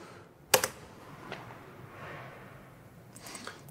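A computer keyboard at a core check-in desk takes a short burst of sharp clicking keystrokes, followed by a few fainter taps near the end, with quiet room background between them.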